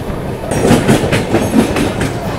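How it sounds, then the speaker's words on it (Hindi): A passenger train heard from aboard the Vivek Express as the two trains pass each other, with loud, close rhythmic clickety-clack of wheels over rail joints and a steady rumble throughout. "इसी ट्रेन ने हमें ओवरटेक किया था, इसको हम ओवरटेक कर रहे हैं।"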